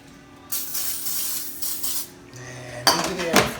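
Avocado oil sprayed from a can over breaded chicken topped with mozzarella slices, a brief hissing spray in short bursts amid kitchen clatter of dishes, fairly close.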